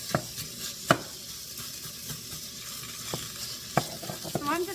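Ground meat sizzles steadily on low heat in a frying pan while being broken up and browned for baked ziti, with a spatula scraping and clacking against the pan at intervals.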